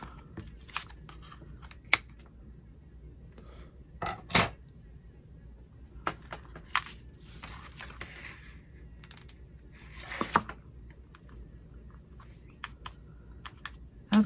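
Sparse, crisp snips and clicks of scissors cutting, scattered irregularly across a quiet background, close by with no talking.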